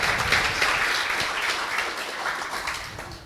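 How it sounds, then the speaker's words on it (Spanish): An audience applauds at the close of a lecture on virtual learning environments, a sustained, dense round of clapping filling the room at moderate loudness. "Damos un fuerte aplauso al doctor Manuel Castro Pereira por esta magistral conferencia"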